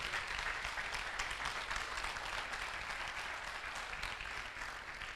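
A church congregation gives sustained, loud applause, a dense continuous clapping that holds evenly throughout and fades slightly at the end.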